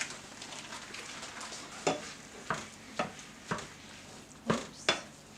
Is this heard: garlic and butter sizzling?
yes